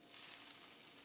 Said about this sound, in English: Sizzle.